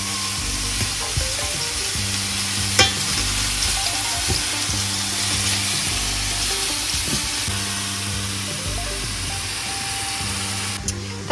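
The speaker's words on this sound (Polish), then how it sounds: "Kuchenkę ustawiamy na więcej jak średniej mocy i smażymy po około 3 minuty" Food fries in a pan on a stove set above medium heat while Caesar salad is being made. A loud, steady sizzle continues throughout over a low humming drone, with occasional clinks and no speech.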